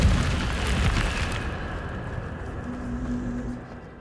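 A fire spell cast in Hogwarts Legacy, heard as a loud whooshing, roaring burst that rumbles for a second or so and then trails off into a lower sustained hum.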